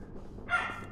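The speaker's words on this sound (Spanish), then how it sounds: "Le encanta ladrar" A dog gives a single short, sharp bark midway through, fairly close and moderately loud over low background noise, with no talk.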